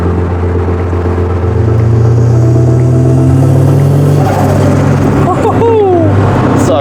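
Tuned 43-year-old Datsun 280ZX L28 turbo engine running loud and close, a steady low drone that rises briefly in pitch, with a faint whine near the end.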